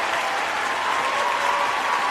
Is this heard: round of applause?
yes